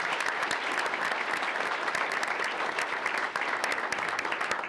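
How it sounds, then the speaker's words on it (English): A crowd claps for a choir student, a dense, even round of applause with crisp individual claps standing out, sustained for several seconds without any talking. "And so let's give her a big round of applause."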